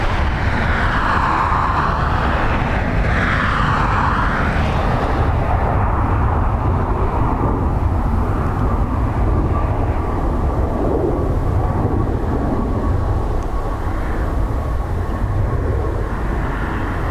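A Ryanair airliner going around at Dublin Airport in a crosswind, its engines roaring loudly and continuously throughout with a broad rushing rumble that swells and shifts as it climbs away.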